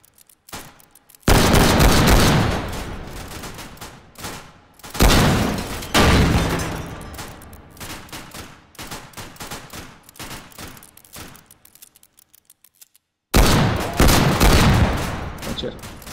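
Rapid bursts of gunfire from bots in the H3VR virtual reality shooter, loud and close, in several dense volleys separated by brief quieter gaps and one near-silent pause.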